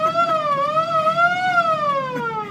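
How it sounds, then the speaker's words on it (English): Siren from a van, a steady wailing tone sliding slowly up and down, loud and close for the whole stretch. "Should I just fire the siren up?"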